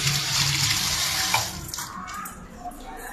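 Mint leaves are washed under a running kitchen tap, a steady hiss of water splashing into a sink close by that eases slightly partway through.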